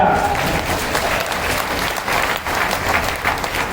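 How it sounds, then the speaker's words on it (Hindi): Women in the audience at a Valmiki community conference in Gwalior clap together, a loud, steady wash of applause from a crowd, with a voice briefly audible at the start. "मेरी महिलाएं तो तालियां बजा रही है"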